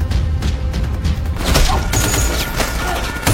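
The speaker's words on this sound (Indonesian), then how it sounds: "Baku tembak kembali terjadi" A gunfire exchange in an action film scene: loud bursts of shots mixed with heavy booms and thuds, close and dense, without pauses.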